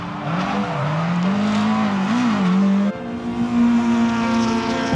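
A rally car at an Irish rally day revs hard, its engine note wavering up and down, then cuts briefly before surging again at a higher, sustained pitch, loud and near.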